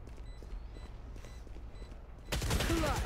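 Gunshots in the video game Valorant: a quiet stretch with faint ticking and steps gives way to a sudden loud burst of rapid fire near the end.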